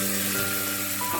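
Mustard seeds, curry leaves and chillies tempered in hot oil hiss and crackle close up for a steady moment before being poured into a mango mustard dish, with no talk over it.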